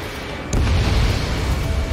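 An explosion from a missile striking an enemy aircraft in the video game Ace Combat 7: a sudden loud boom after a brief quiet start, then a sustained rumbling roar that fills the rest of the moment.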